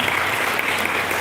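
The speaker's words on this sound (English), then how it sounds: "So please clap for yourself" A convention crowd in a college auditorium claps for themselves, a dense, even wash of many hands applauding loudly throughout the short moment.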